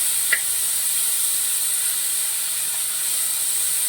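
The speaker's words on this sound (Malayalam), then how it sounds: "ഇനി ഇതൊന്ന് സോട്ട് ചെയ്യണം." Carrots and beans sauté in a hot pan, giving a steady, even hiss of sizzling with a faint click near the start and no talking.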